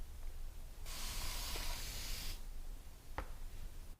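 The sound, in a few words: spraying natural glass varnish coat on a gouache painting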